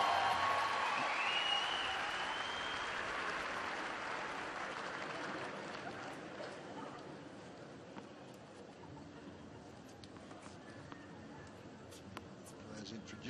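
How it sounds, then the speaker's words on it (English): A tennis crowd at the 2015 Australian Open applauds Andy Murray before his first-round match against Yuki Bhambri, a broad wash of clapping that is loudest at the start and slowly thins, with a voice faintly present. "a huge round of applause for Andy Murray."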